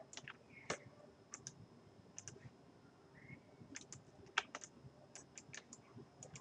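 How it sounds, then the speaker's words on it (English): A computer keyboard's enter key and a mouse click in quick, sparse taps, some spaced apart and some in short bunches, all quiet and close with no voices. "I'm just hitting enter after I click those two sides"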